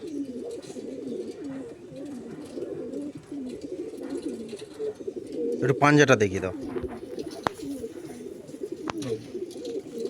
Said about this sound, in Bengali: এটা মাদি এটা মাদা পায়রা